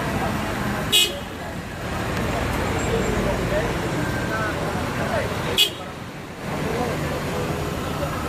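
An executive coach bus at a busy terminal idles amid a continuous roar of surrounding road traffic, with two short sharp horn toots cutting through the din.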